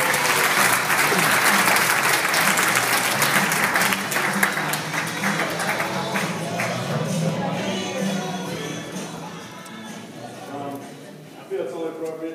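An audience gives someone a warm round of applause at a fast start tips talk, loud sustained clapping from a sizable crowd that slowly tapers off, with a voice starting to speak near the end.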